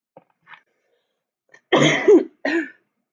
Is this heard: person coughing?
yes